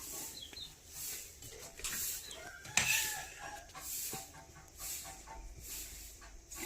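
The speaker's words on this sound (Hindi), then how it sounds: "देखिए इधर मुर्गी खाने के लिए घुस रहा है" A hen and other chickens cluck close by in a home kitchen where rice is being cooked, giving short intermittent calls with one sharper squawk partway through.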